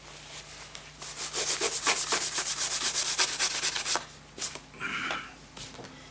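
A block sander rubs back and forth across part of an RC B-25 model airplane in quick, even strokes, close and fairly quiet, then stops and is followed by a few scattered scrapes and handling noises.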